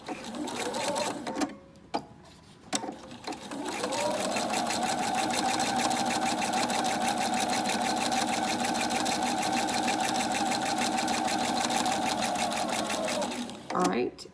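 A sewing machine stitches fabric for homemade heat packs, a few stitches and a pause before running in a steady fast whir for about ten seconds, close and loud, with a voice speaking briefly at the start.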